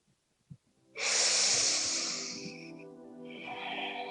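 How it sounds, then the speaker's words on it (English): One deep breath close to the mic: a short sniff, then a long, strong, airy exhale that eases off and is followed by a second, softer breath out. "Gentle inhale, deep exhale."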